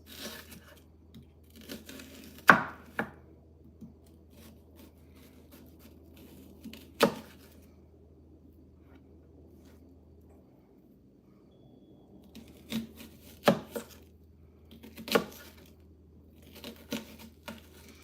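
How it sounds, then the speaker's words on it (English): A knife chops and dices an onion on a cutting board while ground beef for tacos is being prepared, giving scattered sharp taps and thuds at an irregular pace over a low steady hum, fairly quiet, with no talk. "I'm just going to chop along the lines that are already here from the onion"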